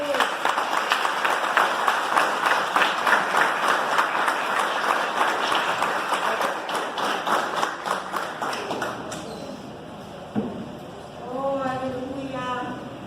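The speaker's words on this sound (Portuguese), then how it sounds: "Podemos dar uma forte salva de palmas?" A church congregation breaks into strong applause during a sermon, dense clapping from many hands that holds steady for about nine seconds, then stops as a voice takes over.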